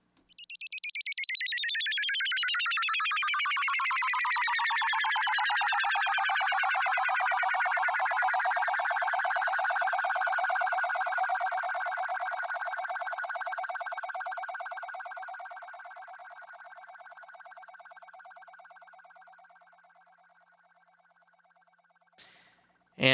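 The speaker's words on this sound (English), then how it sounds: "And now, with this delay effect configured, the patch sounds like this." A synthesizer patch with a delay effect swells into a bright, harmonically rich tone that glides downward and then slowly fades over about twenty seconds as its echoes trail away, loud and alone, ending in a brief click.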